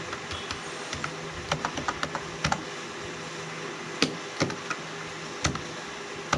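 Fingers type a name on a laptop keyboard, giving scattered light clicks and small bursts of keystrokes with short pauses between them, close up over a steady faint background hiss.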